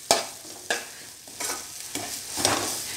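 Prawns fry and get stirred in a pan for a chow chow and prawn curry, with five spaced scraping stirs over a steady close sizzle and no talk.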